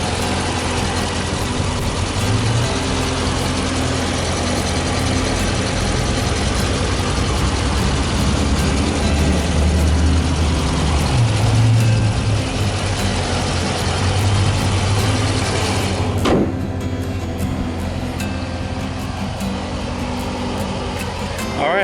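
A 2015 Dodge Challenger R/T Scat Pack's 6.4-liter, 392-cubic-inch SRT Hemi V8 idles close and loud, a steady deep rumble that lightens briefly near the end.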